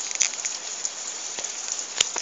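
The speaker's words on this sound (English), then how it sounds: "So the rain is dying down, but the thunder and lightning is definitely not dying down." Rain during a thunderstorm in Margate makes a steady, close hiss that runs evenly throughout, with a few sharp drop impacts and crackles scattered over it.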